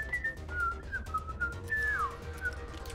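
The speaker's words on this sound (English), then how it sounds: "Oh shit, someone's whistling." In the Max Payne video game, an enemy whistles a wavering tune of several sliding notes, clear and fairly close, with no talk.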